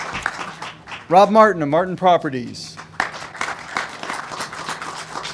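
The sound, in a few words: audience applause at press conference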